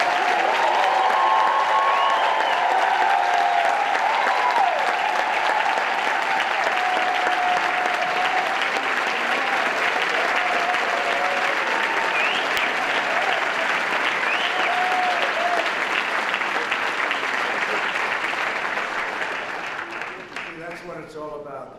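An audience applauds the 2019 White House HBCU Competitiveness Scholars as they stand, sustained loud clapping from a large crowd for about twenty seconds, with faint voices underneath, before it tapers off at the end.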